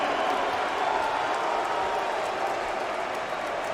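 An arena crowd at the UFC 241 mixed martial arts event gives a dense, sustained roar of reaction to the scorecards, a broad wash of voices with no distinct claps standing out.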